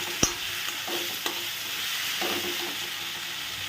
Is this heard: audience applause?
no